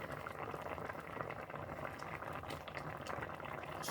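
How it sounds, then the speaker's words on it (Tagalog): Tulingan fish paksiw at a steady rolling boil in a pot, a dense continuous bubbling that stays even and close throughout with no voices. "So yun, kumulo na."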